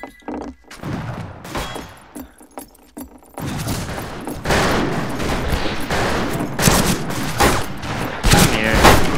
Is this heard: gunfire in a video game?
yes